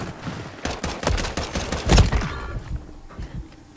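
Rapid bursts of gunfire from the Call of Duty video game crackle through the clip, with a loud, heavy shot near the middle over continuous background battle noise.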